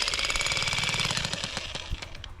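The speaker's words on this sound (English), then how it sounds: "The jackhammer is amazing." A jackhammer breaks up hard clay ground at a homestead, pounding in rapid, steady bursts close by and loud, with the hammering growing choppier and more broken near the end.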